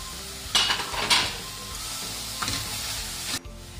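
Chicken pieces hit a hot pan already holding chilli flakes and white and black pepper, for chicken vegetable cutlets. Two loud sizzling bursts ring out as the pieces land, then a steady fry continues under scraping stir strokes, with no talking.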